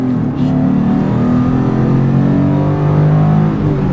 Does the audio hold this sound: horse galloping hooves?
no